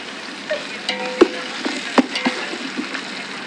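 Onions and green chillies frying in a pan for Tirunelveli dum biryani, a soft steady sizzle with a few sharp clicks and stirring knocks spread across a few seconds, close by with no talk.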